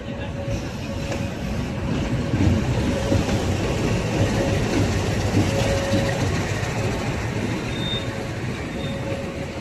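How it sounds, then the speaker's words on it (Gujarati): A train from Rajkot pulls into Junagadh railway station, its rumbling wagons and rolling wheels forming a loud, continuous drone with a faint squeal and a sustained tone above. "આ રાજકોટથી ટ્રેન આવી છે."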